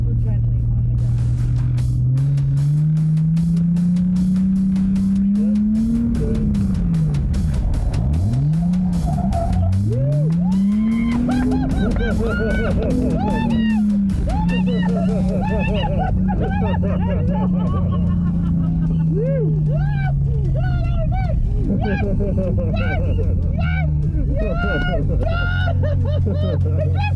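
A car drifts on the e-brake and then eases gently back onto the throttle, its engine note sweeping up and down in long arcs while tyres squeal and chatter. A crowd murmurs throughout and voices talk over the whole run.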